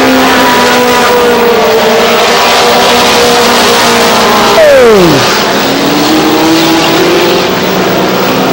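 Race cars roar around Star Speedway in 1993, with a loud, sustained engine drone and one car sweeping past near the middle, its pitch dropping sharply before the steady roar resumes.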